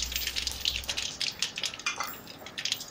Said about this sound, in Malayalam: ചൂടായ എണ്ണയിലേക്ക് കടുകിട്ട് പൊട്ടിക്കാം.